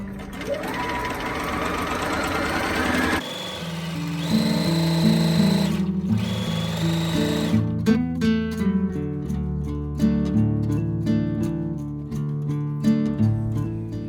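Sewing machine stitching the leg seam of woven pants, a steady mechanical whir running in bursts with brief pauses, close and fairly loud, no talking.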